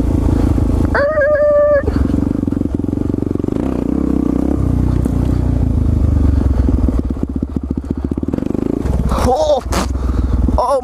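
A supermoto motorcycle rides over rough ground near old batting cages, its engine droning steadily up close with rattles and scraping, while a rider shouts and talks over it.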